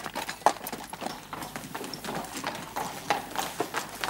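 Horses' hooves clip-clop on hard ground in a post-apocalyptic drama scene, a brisk, uneven run of clear, fairly close hoofbeats.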